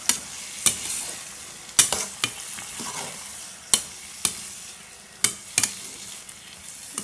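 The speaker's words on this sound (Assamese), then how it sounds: "এতিয়া মই গাজখিনি অলপ ভালদৰে লৰাই দিছোঁ" Fish roe and onions frying in a pan, with a steady sizzle and repeated sharp scrapes and knocks of a spoon stirring, about a dozen strokes in an uneven rhythm and heard alone.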